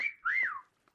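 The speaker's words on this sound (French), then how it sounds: "Non, arrête de siffler, en vrai." A person whistles a short tune near the microphone, a steady tone followed by a rising-and-falling note, close and clear with no talking.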